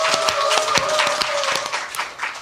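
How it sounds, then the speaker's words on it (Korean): A studio audience at a talk show claps, a busy run of overlapping hand claps over a few seconds with a faint tonal hum underneath, fading slightly toward the end. "여러분의 힘찬 박수와 함께 시작하겠습니다"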